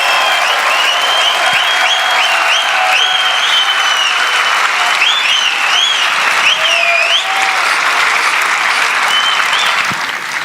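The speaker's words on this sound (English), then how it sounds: "a warm round of applause for the greatest in the world" An audience at a fan event with UFC fighter Khabib Nurmagomedov gives a loud, sustained round of applause, steady and dense throughout, with shrill whistles or cheering cries riding over the clapping before it tapers at the end.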